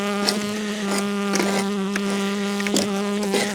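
A bee buzzes close and loud, holding a steady pitch with strong harmonics, while light tapping and rustling bits break in now and then around a beekeeping hive.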